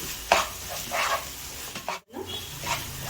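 Grated coconut, onion and fennel being stirred in a frying pan, giving soft scraping swishes in a few bursts with a brief gap, close and fairly quiet.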